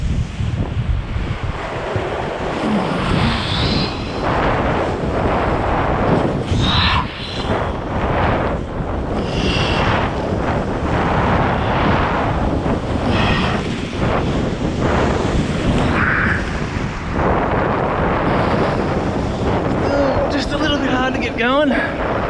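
Strong wind buffets the microphone during a kiteboarding session on a 14m Cabrinha FX kite, a steady loud roar mixed with surf wash and rising gusts throughout.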